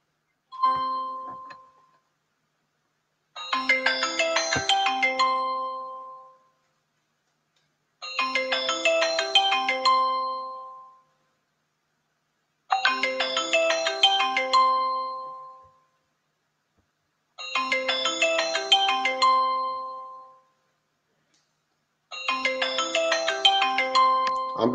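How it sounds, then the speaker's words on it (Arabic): Electronic ringback tone of an outgoing voice call to a doctor, a chiming multi-tone burst repeating five times at steady intervals of about four seconds, clear and alone with silence between rings. "بيرن عنده"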